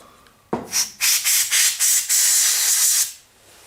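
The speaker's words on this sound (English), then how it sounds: "I'm going to shoot it one more time with the cleaner" Cleaner sprayed onto corroded Xbox 360 controller battery contacts: a sharp click, then several quick hissing bursts and one longer sustained spray, close and loud.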